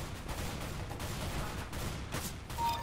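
Rapid bursts of gunfire from a CS:GO match, dense and continuous across the whole stretch, fairly quiet overall with no talk over it.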